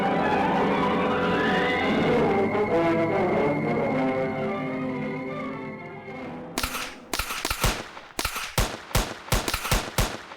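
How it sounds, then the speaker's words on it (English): Gunfight outside a bank during a robbery, where a long rising siren-like tone fades out and is followed by a rapid burst of sharp, loud gunshots in quick irregular volleys. "Gunfight in front of the First Nationalistic Bank on Boulevard Avenue."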